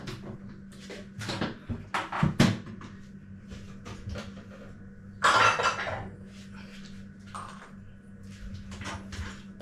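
Freshly picked green walnuts are dropped and shuffled into a container indoors, giving a few clattering bursts near the start and another rattling burst midway, with quieter handling knocks in between and a low steady hum underneath.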